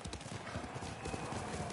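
Horse hooves clip-clopping in the video game Ghost of Tsushima, a quick rhythmic patter of hoofbeats with a brief whinny, heard fairly softly beneath game sounds.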